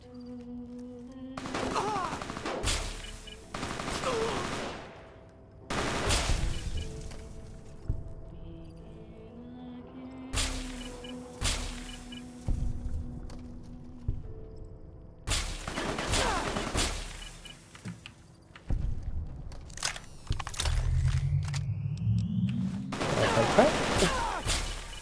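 A railgun-like energy weapon in Fallout fires in sharp, loud discharges at irregular intervals, each followed by a ringing, whirring tail, with quieter pauses between shots.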